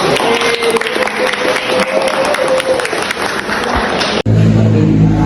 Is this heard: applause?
yes